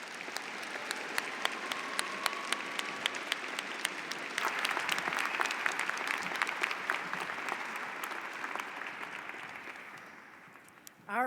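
Sustained audience applause fills a university psychology commencement ceremony hall, a steady wash of many hands clapping at moderate distance with scattered sharper claps, fading toward the end.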